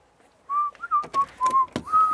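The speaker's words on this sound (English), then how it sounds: "I can hear the ice cream van" An ice cream van chime plays a simple tinny melody of sustained notes at a moderate level, interrupted by several sharp clicks and knocks nearby.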